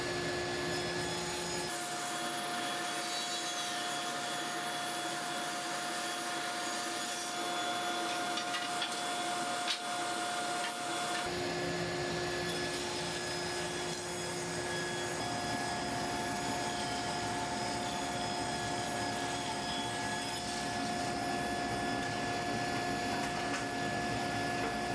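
Lumber boards being ripped to consistent width on a saw, a loud steady whine and cutting roar lasting throughout, with a slight shift in tone partway as the blade works through the wood.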